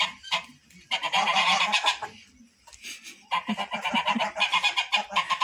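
A goose on a rural smallholding honks loudly and repeatedly in two long bursts of harsh, nasal calls, close by, with a short quieter gap between them and no speech.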